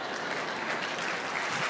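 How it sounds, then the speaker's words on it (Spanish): An audience at a live talk event applauds in a dense, steady wash of clapping from a crowd, heard at a distance and moderately quiet. "Y aplauden, eso es maravilloso."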